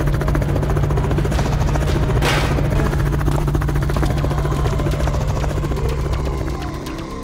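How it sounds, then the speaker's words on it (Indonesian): A helicopter appears overhead at a big party, its loud, steady rotor and engine drone filling the scene with continuous low thumping that holds strong before easing slightly toward the end. "Pertarungan besar antara 3 gadis harus berhenti karena sebuah helikopter keren muncul dari atas."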